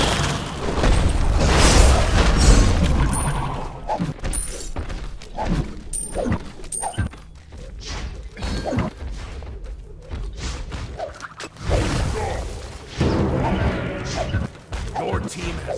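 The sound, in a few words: enemy tower being destroyed in the video game Smite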